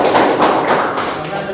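Applause for a student in a classroom, a short burst of many hands clapping together, loud and close, fading slightly toward the end.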